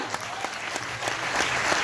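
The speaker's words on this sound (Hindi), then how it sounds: "सर और मैम के लिए भी एक जोरदार तालियां।" A short, hearty burst of applause from an audience at a network marketing seminar, steady and full throughout.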